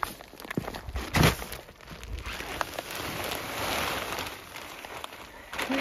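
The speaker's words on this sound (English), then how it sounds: "it's raining now" Steady rain falling outdoors in a garden, a broad continuous hiss with scattered close drops and a couple of louder knocks or footsteps, no talking.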